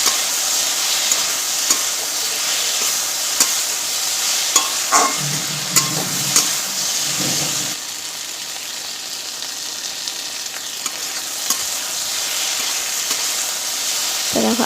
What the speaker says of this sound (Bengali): তো হলুদ দিয়েও কিন্তু আবার ভেন্ডির সঙ্গে মিলে ভালো করে মিশিয়ে আর একটুখানি নেড়ে চেড়ে নেব।